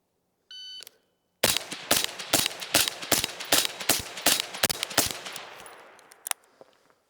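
A 5.56 rifle fitted with a Griffin Dual-Lok HRT suppressor fires ten rounds at 50 yards, a quick string of sharp, loud, evenly spaced suppressed cracks after a short beep, ending with one last shot.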